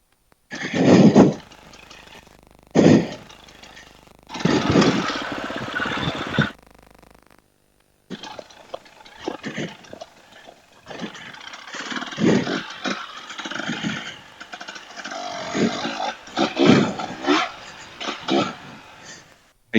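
Beta 200RR two-stroke dirt bike engine revving in bursts, close and loud, with short gaps between blips and then sustained uneven throttle as the bike maneuvers.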